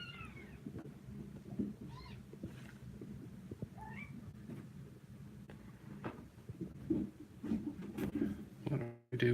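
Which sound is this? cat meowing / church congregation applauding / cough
cat meowing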